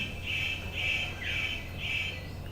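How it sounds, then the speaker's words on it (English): A superb bird of paradise gives a courtship call: four evenly spaced harsh, buzzy squawks, clear and fairly close over a low background hum. "The superb bird of paradise calls to attract the female."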